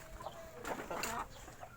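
A few soft clucks from large Shamo gamecocks, brief and close, scattered over a quiet background.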